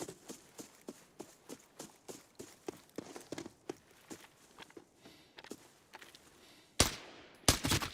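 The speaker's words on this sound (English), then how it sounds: "Did I hear a gunshot back there?" In a video game, a rhythm of running footsteps gives way to two loud, sharp gunshot bursts close together at the end.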